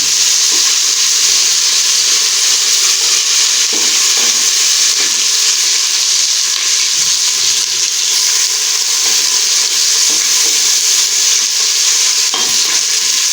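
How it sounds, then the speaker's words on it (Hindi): Garlic ginger paste sizzles loudly alongside golden-brown onions in a pan for beef dal gosht, a dense continuous hiss with scraping stirs breaking through now and then. "हमारा प्याज गोल्डन ब्राउन हो चुके हैं, तो अभी हम इसमें लहसुन अदरक का पेस्ट डाल देते हैं।"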